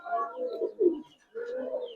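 Old-breed Giribaz pigeons coo in two soft, throaty bursts separated by a short pause, close by with no talk.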